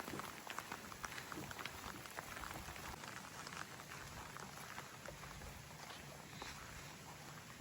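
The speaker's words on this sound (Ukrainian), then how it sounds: "Дощ почався." Rain beginning to fall outdoors by a lakeside cabin, a soft, steady patter of drops spread evenly across the whole stretch, faint and with no one talking over it.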